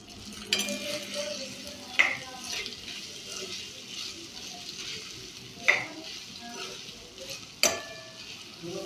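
Cooked rice stirred into chitranna seasoning in a pan: soft frying hiss with scraping strokes and three distinct sharp clinks of a spoon on metal, fairly quiet and close.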